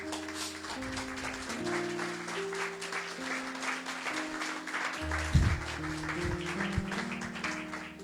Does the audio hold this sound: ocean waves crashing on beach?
no